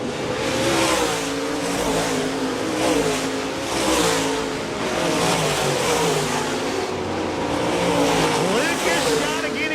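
USMTS race cars roar around the Park Jefferson Speedway track during a close battle late in the race, engines surging and fading in waves as they pass, a loud continuous racing din.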